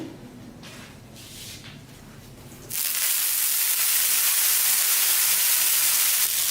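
Oil hits a hot dosa tawa and bursts into loud, steady sizzling after a few quiet seconds of low background noise, then keeps hissing evenly to the end.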